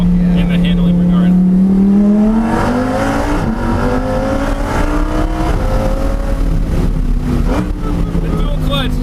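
Lamborghini Huracan Performante accelerating up a mountain road, its engine note climbing through gears loud and close from inside the cabin, with people talking over it.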